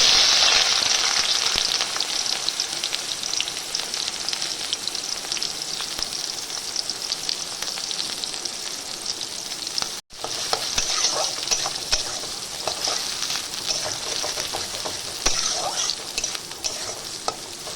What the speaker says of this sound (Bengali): ভালো করে ভাজবো পেঁয়াজটা